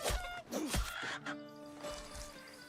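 A chicken in a video game clucks in short, bright bursts, a few quick calls close up, followed by a brief sustained tone.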